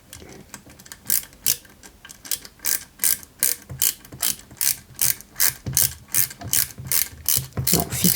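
Screws are driven into a 1/8 scale Ferrari 330 P4 model kit, giving a steady run of about twenty crisp ratcheting clicks from a screwdriver, close and alone with no talking.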